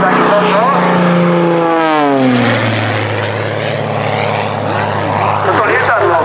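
An aerobatic propeller plane flies knife-edge at an air show in Dubová. It passes loud and close, and its engine pitch swoops downward as it goes by, then settles into a steady drone. A commentator talks over it.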